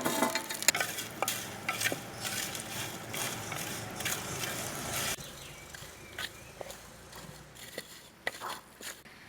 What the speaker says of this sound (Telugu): పొయ్యి మీద బండి పెట్టుకుని వేపుకుందామండి.